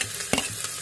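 Green chilies drop into ginger garlic paste frying in a pan for a potato sabji, bringing a brief close stirring scrape over a steady hiss of sizzling oil.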